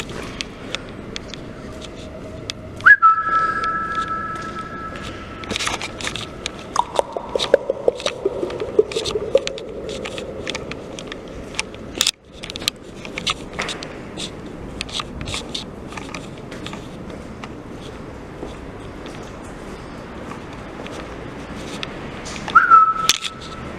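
Someone whistles short tuneful phrases inside an empty construction site. The whistles are sparse and echo off the bare walls, mixed with scraping, rustling and footstep noises, and a last whistle comes near the end.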